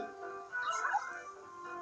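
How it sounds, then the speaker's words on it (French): A brief, eerie whimper from a ghost dog in Luigi's Mansion 2, rising into a thin yelp, with a hollow, slightly distant tone. "C'est un chien fantôme."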